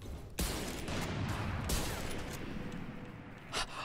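Rapid gunfire in a shooting video game, a dense continuous rattle of shots with a sharp crack near the start and another burst near the end, loud and steady throughout.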